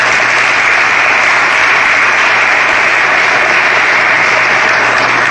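An audience applauds the National Park Service at a monument dedication ceremony, dense loud steady clapping filling the whole stretch without any speech.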